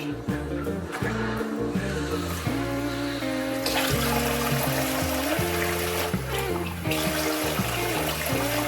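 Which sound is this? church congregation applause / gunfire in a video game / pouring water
pouring water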